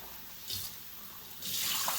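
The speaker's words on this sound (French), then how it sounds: "Je vais me rincer les mains" Tap water runs steadily while hands are rinsed, a soft close hiss that surges louder twice as the hands move under the stream.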